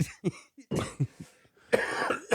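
A person coughs several times in quick bursts, close and loud, with short gaps and a throat-clearing sound between fits.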